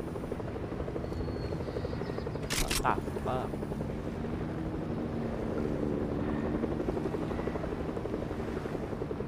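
A helicopter in Fortnite, its rotor chopping steadily close by throughout. A brief burst of gunfire cracks near the middle, and a player speaks briefly over the engine drone.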